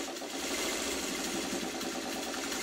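A sewing machine stitches pieces of a quilt block. It runs as a steady, continuous mechanical whir.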